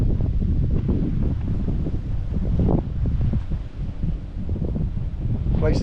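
Strong breeze right on a lake buffets the microphone in a steady, dense low rumble with brief gusts, loud and close throughout, with no clear talk.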